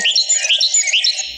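A small urban songbird sings a rapid, high-pitched series of bright chirps and trills, loud and close, filling the short stretch continuously with no talk.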